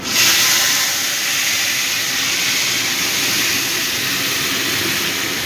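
A loud, steady hiss and sizzle fills the whole stretch as a wet mustard and green chili paste hits hot oil in a pan.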